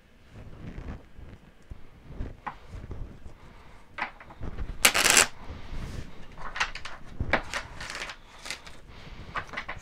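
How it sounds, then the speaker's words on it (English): Irregular papery riffles and soft slaps of tarot cards being shuffled by hand, with one louder burst of flicking midway. "let's shuffle the cards"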